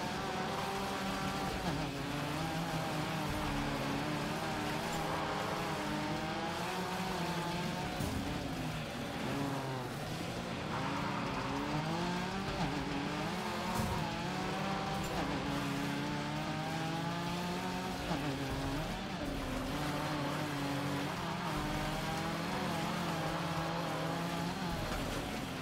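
A Porsche race car laps a circuit in the racing game Gravel, its engine a continuous droning roar that rises and falls through gear changes, with tyre and gravel noise underneath, loud and steady throughout.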